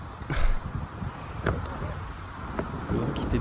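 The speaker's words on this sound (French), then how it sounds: "Le vent qui fait bien bouger tout." Gusty wind sweeps across an outdoor tennis court during a match, buffeting the microphone with a continuous rushing noise and low rumble that swells in a few brief surges.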